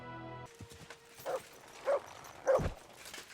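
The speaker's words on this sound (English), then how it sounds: "What you barking for?" Three short barks from a dog in the video game Kingdom Come: Deliverance 2, spaced about half a second apart, sharp and somewhat synthetic, over a quiet hum with faint background tones.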